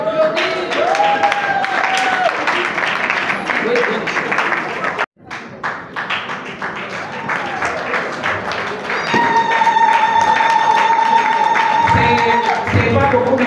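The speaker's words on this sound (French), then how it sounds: "On applaudit." An audience at an award ceremony for women entrepreneurs in Congo claps and applauds loudly and steadily, with a brief drop partway through, while voices and some tonal sound carry over the clapping.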